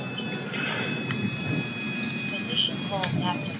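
A Durafly Tundra V2 RC plane flies steadily overhead, a faint distant propeller drone under wind noise and brief voices.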